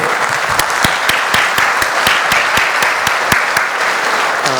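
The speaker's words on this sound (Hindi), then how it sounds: "तो आप एक बार जोरदार तालियां इनके लिए प्लीज।" An audience at a college orientation motivational talk applauds loudly and steadily, with sharp individual claps standing out in a fairly regular beat over a dense wash of clapping throughout.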